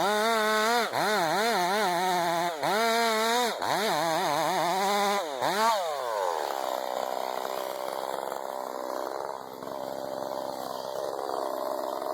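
A chainsaw felling a big old tree revs in loud, close bursts, its engine pitch swooping up and down several times before settling into a sustained high-pitched cutting whine that runs steadily to the end.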